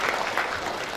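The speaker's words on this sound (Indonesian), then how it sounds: "Tepuk tangan dulu, Pak." A graduation ceremony audience claps in a short, steady burst of moderate applause, with a dense, even patter and no break.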